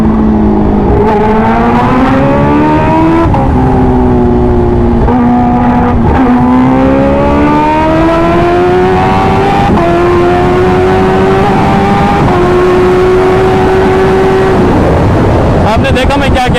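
A Kawasaki H2R motorcycle accelerates hard at high speed on a track, its engine note climbing steadily through the gears with brief dips at each shift, loud and continuous throughout.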